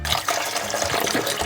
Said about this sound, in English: Pour in a bit more water, tighten down the hatches.